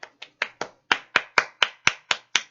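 Eleven sharp hand claps at a steady, slightly quickening pace, close and loud, each a crisp isolated smack with silence between, no talk.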